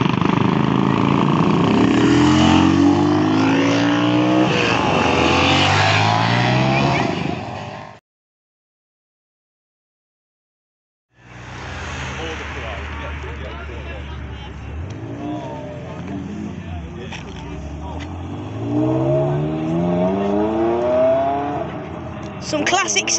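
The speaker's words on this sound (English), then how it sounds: "Some classic sounds there from the good old Ferrari" A loud Ferrari engine roars and revs with rising and falling pitch at a supercar meet, cuts out for a few seconds of silence, then roars back up again.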